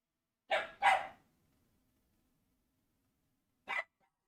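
Hungry pet dogs barking indoors: two quick, fairly loud barks close together, a long quiet pause, then a single shorter bark.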